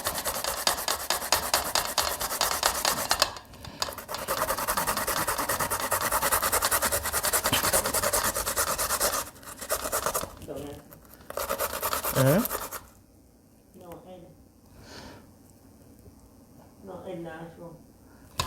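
Sweet potatoes grated by hand for Jamaican sweet potato pudding, a steady close rasping scrape that runs for about twelve seconds, then gives way to short bursts of talking.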